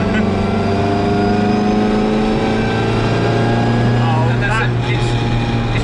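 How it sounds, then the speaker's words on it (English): Paddy Hopkirk Mini Cooper S rally car with a four-speed straight-cut gearbox runs in top gear, a loud steady gear whine layered over the engine drone, heard from inside the cabin. "The noise! It's a straight cut box."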